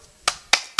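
Three short, sharp claps in church spaced evenly about a quarter second apart, close by and distinct, the kind a congregation makes during a Sunday morning worship service.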